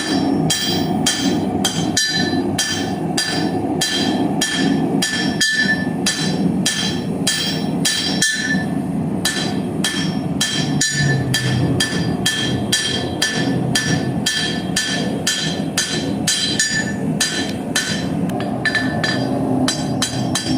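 A blacksmith hammers a nail on a fresh anvil, a long, steady run of rapid ringing metal blows that keeps an even rhythm and loudness.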